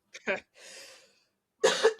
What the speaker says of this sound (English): Oh no, I was coughing.